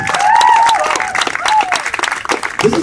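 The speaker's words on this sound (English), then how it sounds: "Thank you for clapping so loud." A beach crowd at a fire juggling stunt claps loudly and continuously, dense applause close by with a voice and whistling or cheering over it.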